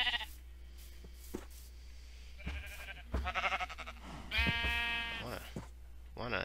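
Several sheep in the video game Minecraft bleat in short, wavering cries, some close and some farther off, over a steady low hum with a voice talking between them.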